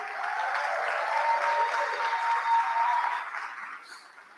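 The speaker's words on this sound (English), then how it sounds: "So let's give them a round of applause too." Applause from the audience at a Mardi Gras themed gala, a steady, moderately distant wash of many hands clapping that holds for about three seconds before tapering off.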